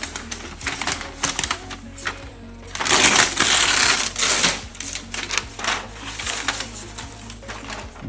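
Foil wrapping crinkles and crackles as a MacBook Air M2 laptop is unwrapped, with bursts of rustling and tearing close by, louder in the middle, and no talking.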